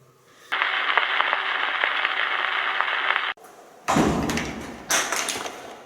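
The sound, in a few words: door slamming shut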